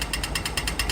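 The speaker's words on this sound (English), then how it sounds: "When you can cross, it becomes the little green man, and the buzzer sounds like this." Rapid repeating electronic buzzer pulses from an Australian pedestrian crossing signal, a fast rhythmic clicking beat of about six bursts, loud and close.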